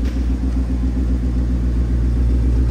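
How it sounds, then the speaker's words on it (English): A 2015 Ford Mustang GT Premium convertible with a Whipple Stage 2 supercharger idling, its exhaust giving a deep, steady, close rumble with no revving and no voices. "listen to the exhaust"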